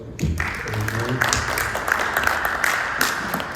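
A few people at a small community gathering about rebuilding Altadena clap briefly for Professor Miller, a thin, scattered round of applause with a voice murmuring over it.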